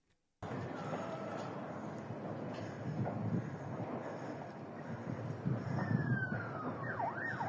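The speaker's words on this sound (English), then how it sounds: "I know we hear police sirens" Police car sirens wail in the distance, with rising and falling tones over a steady wash of background rumble and noise during a night of missile strikes in Israel.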